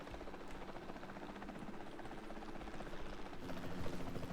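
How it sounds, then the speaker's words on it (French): Helicopter in the video game Jurassic World Evolution 2, a steady rotor drone and hum filling the scene at moderate level, swelling slightly toward the end. "Et cet hélicoptère, il était dans le film Jurassic World."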